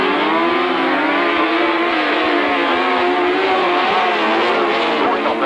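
Right-hand sidecar outfits at a 1993 Staplecross grasstrack meeting roaring off the start line, several engines revving hard together in a loud, continuous, near snarl that builds as they accelerate.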